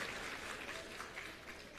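Audience applause for schoolchildren at a government school event, a steady wash of clapping from a crowd, moderately distant and fairly faint, with no voices.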